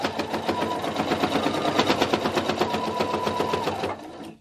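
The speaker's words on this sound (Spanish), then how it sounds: "Continuamos cosiendo." A sewing machine stitching fabric for a potholder, running steadily with a fast, even mechanical whir and rhythmic needle chatter, loud and close, then stopping near the end.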